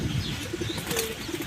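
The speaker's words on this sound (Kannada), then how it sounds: "कबूतर लगा है कबूतर" Pigeons at a bird-flying contest in Haveri give soft, low coos mixed with brief wing flaps, fairly faint against a busy outdoor background, with no talk.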